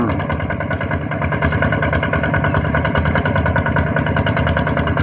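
A steady, loud tractor engine drones continuously at a constant idle-like pace, with no breaks or changes in rhythm.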